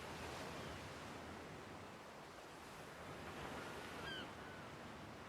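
Ocean waves wash steadily in the survival game ARK at a tropical shoreline, a broad continuous surf hiss with soft wind, faint and distant, with a brief small chirp near the end.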